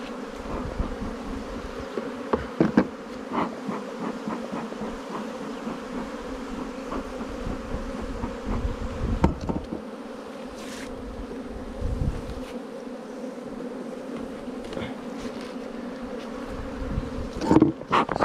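Dense, steady hum of many honeybees buzzing around an open hive that is not in swarming condition, a continuous drone with occasional louder passes of individual bees close by.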